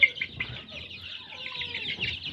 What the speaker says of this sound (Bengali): আমাদের অনেকগুলো মুরগি আছে